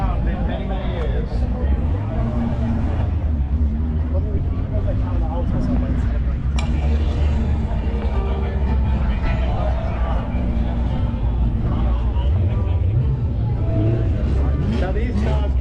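The race car that won the 1978 Dutch Grand Prix with Mario Andretti, heard at the Pebble Beach Concours d'Elegance, gives off a loud, continuous engine roar under crowd noise and nearby talking.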